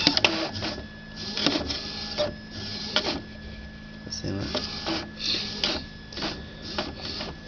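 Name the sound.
Epson inkjet printer pulling paper and printing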